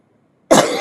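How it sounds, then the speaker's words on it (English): A single sharp, loud cough bursts out close by after a moment of silence. "boy, I'd like to get rid of this cough"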